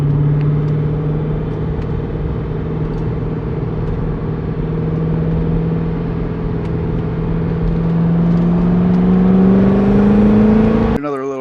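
A C6 Corvette cruises after a valve cover change, its engine droning steadily from inside the cabin. The pitch rises gradually as it speeds up, loud and continuous, cut off abruptly at the end.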